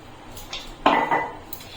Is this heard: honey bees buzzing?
no